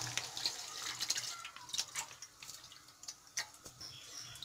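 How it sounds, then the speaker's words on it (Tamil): Milk poured from a cut packet into a pan of boiling tea decoction, a soft liquid splash and trickle running for a few seconds at modest level under light kitchen noise. "அடுத்து பாலை கட் பண்ணி ஊற்றிக்கலாம்."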